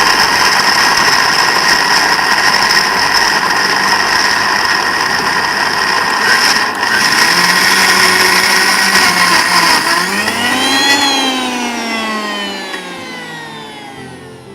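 A kitchen blender grinds a puree at steady high speed with a loud whirring motor whine. Near the end the pitch sweeps down and then climbs back up as the load shifts, and the sound fades slightly at the close.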